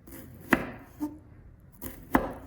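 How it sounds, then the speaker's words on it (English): A knife cuts thin slices of bitter melon on a cutting board, four sharp, close taps spaced unevenly in a quiet kitchen, with no speech. "After that, the melon was sliced thinly."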